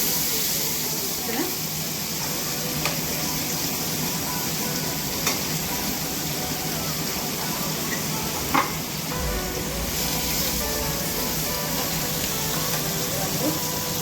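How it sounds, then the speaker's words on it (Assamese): Prawns and fish frying in a pan, with a constant sizzle and occasional sharp pops and clicks of oil or utensils throughout, fairly loud and steady. "মাছখিনি মই ফ্ৰাই কৰিছোঁ"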